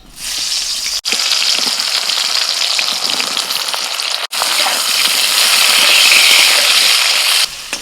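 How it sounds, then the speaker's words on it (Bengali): Loud, continuous sizzling of brinjal frying in hot oil in a kadai, a dense crackling hiss with two brief breaks. "কড়াইতে তেল গরম হয়ে গেছে এবার বেগুন ছেড়ে দিচ্ছি"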